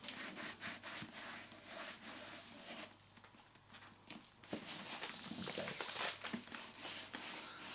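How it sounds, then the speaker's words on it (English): A cloth is rubbed over a Chanel bag, working into the nooks and crannies along its sides, giving soft, close scuffing and rubbing strokes in uneven bursts over a quiet room. "Wipe it over. Get into the nooks and crannies along the sides."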